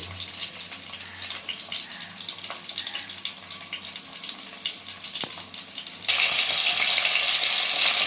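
Fish fries in a pan as a continuous bright sizzle with light crackles, then the hiss swells sharply louder for the last couple of seconds as the flame is raised; no one speaks.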